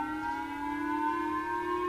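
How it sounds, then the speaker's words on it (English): Air raid sirens sound at 6 a.m. on Hokkaido island, Japan, during a North Korean missile alert: a steady, sustained civil defense wail with layered harmonic tones, holding level and continuous throughout, with no voices. "the air raid sirens go off as a North Korean missile flies unseen above"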